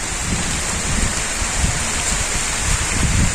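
Steady rain hisses evenly throughout, a dense constant patter with no voices.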